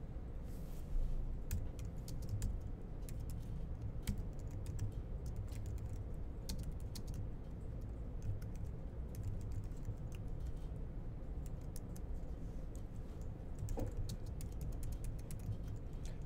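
Code is typed on a computer keyboard in rapid, irregular bursts of close, crisp key clicks over a low room hum, with no voices.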